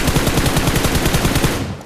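Rapid automatic gunfire in a video game, a fast, even burst of close, loud shots lasting under two seconds before trailing off.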